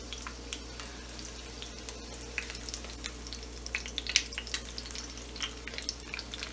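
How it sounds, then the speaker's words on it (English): Pork tenderloin frying in canola oil for a sandwich, a steady close sizzle with scattered pops and crackles over a low hum, no talk. "we're gonna let that fry, get golden brown, and then flip it"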